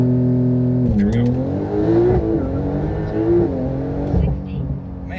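A 1,000 HP Porsche 911 Turbo S launches hard with wheelspin, its engine droning in a strained, wavering pitch as revs climb and shift, loud and close from inside the car.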